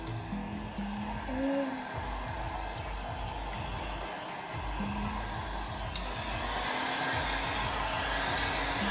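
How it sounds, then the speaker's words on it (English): A hair dryer blows with a steady, loud whirring rush throughout, its motor tone shifting slightly as it moves. "I'm going to go a bit crazy with the dryer in a minute."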